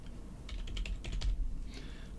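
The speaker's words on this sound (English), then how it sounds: "So we're going to type anim dot set" Computer keyboard keys clacking while code is typed, a quick run of about a dozen close, crisp strokes with a short pause before a couple more soft taps.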